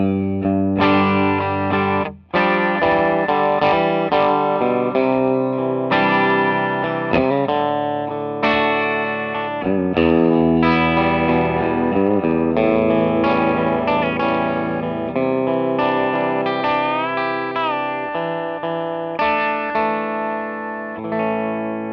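Electric Telecaster guitar through a J Rockett Archer Clean pedal, strummed chords and picked lines with driven, compressed edge and slight chorus shimmer, continuous and loud with one brief pause, no talking.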